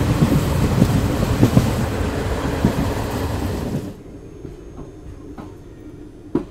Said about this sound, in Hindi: ट्रेन पहुंची है फलूदी जंक्शन में